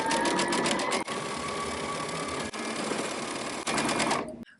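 A sewing machine runs steadily, stitching a second row a quarter inch from the first line while making a three-tank dress, a loud, continuous mechanical whir with brief pauses and a rhythmic ticking texture, no voices.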